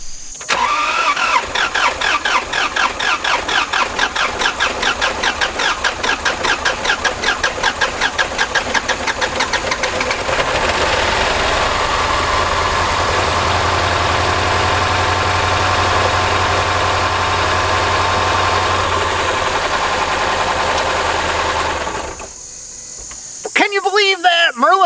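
A cheap Land Rover LR4 that had been sitting cranks with a rapid whirring starter for several seconds, catches and settles into a steady idle, then a voice comes in near the end.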